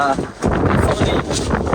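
Strong wind gusts across a microphone on Girnar mountain during the monsoon, a loud rough roar that buffets in surges, with voices talking underneath.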